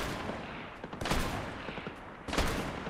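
Fortnite gunfire in bursts, two dense volleys of cracking shots about a second apart, moderately loud with no talk.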